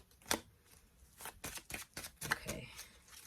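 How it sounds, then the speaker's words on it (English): Tarot cards are shuffled by hand in quick bursts of riffling and sliding, close and crisp, with brief pauses between the bursts and no speech. "Shuffle again."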